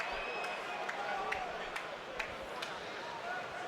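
A rugby stadium crowd in a Cardiff versus Glasgow match lets out a broad, sustained roar of displeasure. The dense murmur stays steady, with a few sharp whistle-like accents cutting through it.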